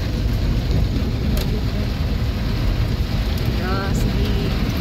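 Rain falls steadily in Cebu, a dense, loud wash of rainfall with low rumbling beneath, and a voice speaks faintly partway through.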